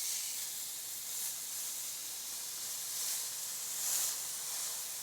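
A ribeye steak sears in a hot D3 stainless pan, giving a steady, faint sizzling hiss that stays even throughout with no talk over it.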